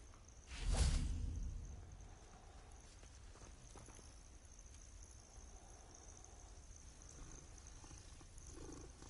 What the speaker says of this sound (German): Kurz Katze streichen.